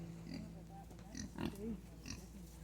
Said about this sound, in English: My mom seems to have found more pigs.